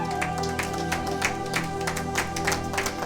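Applause from a church congregation, a continuous burst of many hands clapping with rhythmic peaks, fairly loud and close, without speech over it.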